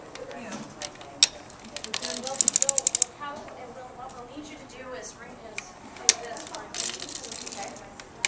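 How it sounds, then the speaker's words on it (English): An antique 1906 Gearhart sock knitting machine is hand-cranked, producing clustered metallic clicks and rattling ratchet-like ticks from its needles and gears, close and moderately loud, while a person talks throughout. "this is a Gearhart brand sock knitting machine"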